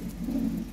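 A pigeon gives a single soft, low coo from close by, a brief rounded call swelling in the middle and fading out.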